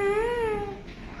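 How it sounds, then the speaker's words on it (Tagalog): A single drawn-out cat meow, clear and close, rising slightly then fading over about a second, at Pier 4 of the Manila port. "Ay, ang cute ng pusa."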